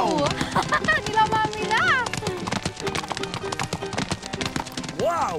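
Horses gallop through a forest in an animated children's adventure series, their hooves clip-clopping rapidly and loudly with a couple of whinnies, mixed with music and voices.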